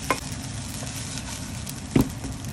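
Fried rice is stirred in a frying pan under a soft, continuous sizzle, with two scraping clatters of the utensil against the pan close by.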